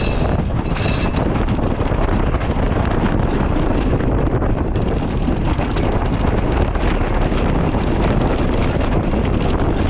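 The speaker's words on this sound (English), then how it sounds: "The wind's arrived. We've got 25 knots from the south." Strong wind roars steadily across a sailboat at sea, blowing at about 25 knots from the south, a loud continuous buffeting rush over the microphone that lasts the whole time with no talking.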